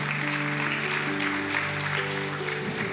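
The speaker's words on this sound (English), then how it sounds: "So go ahead and give yourselves a round of applause." A church congregation at a Sunday service claps continuously over sustained, held musical tones, the crowded patter of hands blending with the steady chords at a moderate, even level.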